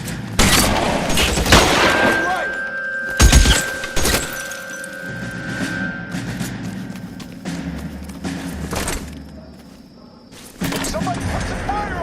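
Shootout gunfire in the crime game L.A. Noire: scattered gunshots and impacts burst out amid in-game dialogue, with loud bangs clustered early and a hit around three seconds, the fight continuing under the voices.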